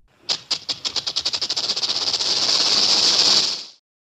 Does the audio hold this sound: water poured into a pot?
no